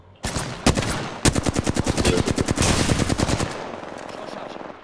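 Flatline rifle firing in the video game Apex Legends, a loud close burst of rapid automatic shots after a few single cracks, the rhythmic fusillade running about two seconds before trailing off.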